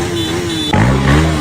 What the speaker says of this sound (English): somebody literally drove a motorcycle through the police